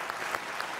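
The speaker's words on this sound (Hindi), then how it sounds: "अब बजाई सरदार जी की ताली" A short, fairly faint burst of audience clapping at a Hindi comedy poetry recital, steady and crowd-like with no voices over it.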